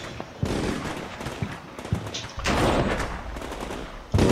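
Simulated machine gun fire and other gunshots in the Combat Mission Shock Force 2 combat game, a dense sustained crackle of rounds with sharper individual bursts cutting in, heard without talk.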